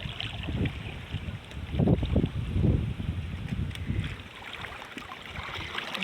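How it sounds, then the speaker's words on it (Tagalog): Wind blowing across an open boat crossing a river on a hot, breezy day, a steady broad rush with low rumbling gusts swelling near the middle, close to the microphone, with no talk. "Maganda ang panahon pero mahangin po naman."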